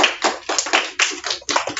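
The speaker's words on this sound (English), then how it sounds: "Let's give him a round of applause." A small classroom group gives a short burst of hand clapping for a child who has just recited a poem, quick, close and uneven, with a few claps per second.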